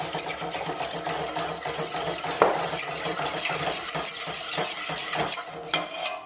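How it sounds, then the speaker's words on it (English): A whisk works evaporated milk into cooked flour in a pot over a low flame, a busy continuous clatter of metal against the pot with quick rhythmic scraping and a few bright clinks. "add the evaporated milk and continue whisking"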